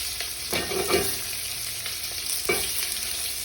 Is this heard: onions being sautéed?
yes